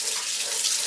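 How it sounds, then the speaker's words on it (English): Water pouring over a half wild turkey breast in a crock pot, a loud, steady rushing stream running without a break for the whole moment. "you can cover it up with water so it's about 1 inch above it"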